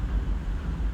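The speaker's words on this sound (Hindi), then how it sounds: "ये हवा की आवाज़ है।" Strong wind on a rainy day in Mumbai buffets the microphone in a low, continuous roar with gusty swells.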